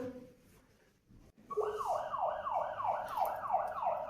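An ambulance siren wails in a loud, steady rising-and-falling cycle that starts after a quiet stretch and repeats alone to the end.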